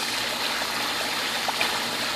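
Backwash water from a pool DE filter rushing out of a hose in a steady, even stream, close and continuous with a faint trickling texture and no talk.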